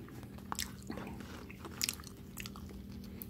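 Close, crisp bites and crunchy chewing on a Belmont cookies and cream cookie, a few sharp crunches amid softer mastication, with a faint hum in the background and no talking.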